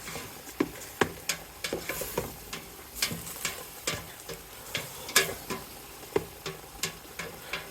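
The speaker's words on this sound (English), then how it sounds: "I'll stir them in a little bit." Spoon stirring seasonings into browned ground beef and onions in a pan for goulash, with irregular scraping clicks and taps over a soft sizzle, close and fairly quiet, no talking.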